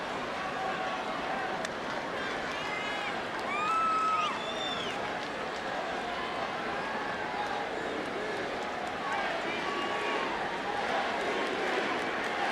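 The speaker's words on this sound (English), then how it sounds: "Crowd with the MVP chant for Jeter" Baseball crowd at a Yankees home game against Baltimore chanting MVP for Derek Jeter, a steady wash of massed voices filling the ballpark while a commentator talks over it.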